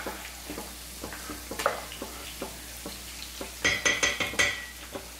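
Chicken for Manjali biryani being stirred as it fries in a pot, with repeated scraping strokes of a spoon against the metal over a steady low sizzle, growing busier and brighter toward the end.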